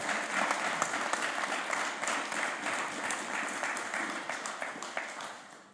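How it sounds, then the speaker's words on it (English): Sustained applause from an audience at a university panel forum on sustainable design, steady dense clapping throughout that tapers slightly at the end. "I'd like to have a round of applause"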